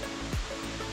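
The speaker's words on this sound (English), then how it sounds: "This little singular stream of water." Small single stream of water trickling through a bamboo jungle on Maui's Road to Hana, a steady close rushing wash with low rumbling surges, no talking.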